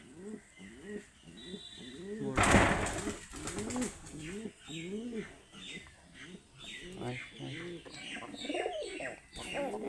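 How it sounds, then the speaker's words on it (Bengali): A Shiraji pigeon coos close by in a repeated series of soft, rolling, throaty calls with a brief burst of wing flapping, while voices murmur faintly in the background. "এই যে এটা সিরাজি কবুতর, দেখেন তো সিরাজি কবুতর দেখতে কেমন লাগছে।"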